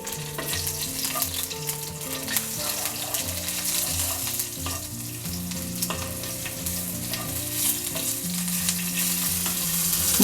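Cumin seeds, asafoetida and slit green chillies crackle in hot oil in a pan for dal pakwan, a loud, busy sizzle with constant popping and spitting close up for about ten seconds, background music underneath and no speech.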